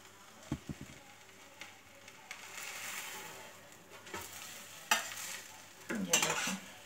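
A cheese omelette fries on its second side after being flipped in a lightly oiled pan, giving a soft, steady sizzle with a few sharp scrapes and taps near the start and end, close and moderately quiet, with no talking.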